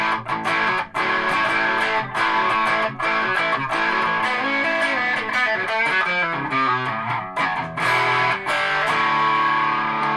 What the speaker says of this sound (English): I'm going to put some distortion on.